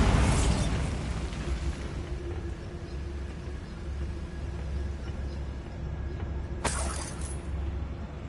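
A Bombarda blasting spell exploding in the Hogwarts Legacy video game: one loud burst at the start that decays into a rumbling tail, with a sharp crack later on.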